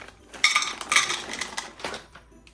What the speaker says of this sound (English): I'm going to take my chocolate melts and throw it in here.